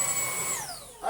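A Shark IC160 DuoClean cordless vacuum cleaner runs with a steady high whine whose pitch slowly falls, then a brief louder burst near the end, close by with no talk.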